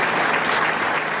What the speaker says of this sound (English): Applause erupted for Officer Joshua Comitale on his way out of Albany Medical Center